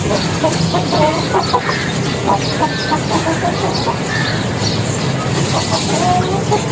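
Chickens cluck and squawk nearby in a busy, steady chatter over a dense background of farmyard noise.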